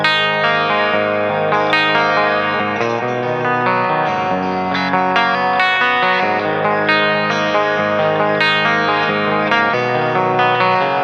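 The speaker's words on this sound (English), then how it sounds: "that same sound kind of sounds like this on the bridge pickup in parallel humbucking mode." Electric guitar on the bridge pickup in parallel humbucking mode playing chords and melodic lines with a clean, chorused, slightly driven tone, sustained and continuous for the whole stretch, no voices.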